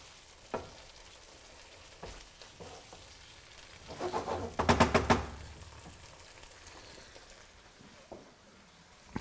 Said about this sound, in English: just fry your paste off as well, just to release some of those flavours